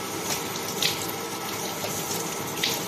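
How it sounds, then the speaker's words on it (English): Tap water runs into a kitchen sink while green onions are rinsed under it, a steady close hiss of flowing water with a few brighter splashes as the stalks are moved. "So I need to wash first."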